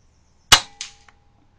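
An air rifle firing a pellet at a target through an Oneleaf NV400 Eagle scope: a single sharp crack close by, followed by a fainter pellet impact a moment later, with no talk.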